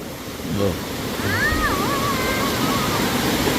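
A river rushes steadily across a forest water crossing, loud, broad and close, with a brief whistle-like tone over the flowing water.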